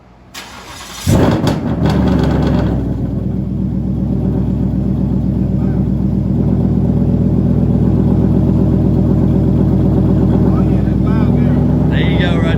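A supercharged Ford Mustang fitted with a Whipple blower on a dyno cranks and catches, then settles into a loud, steady, droning rumble that holds close and constant with a slight rise near the end.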